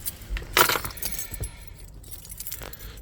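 Truck keys jangle in a short metallic burst, loudest early on, then a couple of fainter clinks follow in a quiet space.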